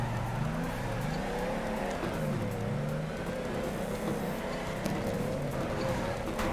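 A race car engine in the Torque Drift PC game on the Irwindale track drones steadily and loudly, its pitch climbing and dropping repeatedly as it revs and shifts into second gear, with no voices.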